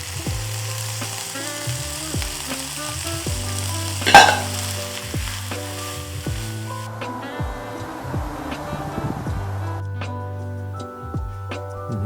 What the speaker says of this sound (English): It's time to add vegetable into the scrambled eggs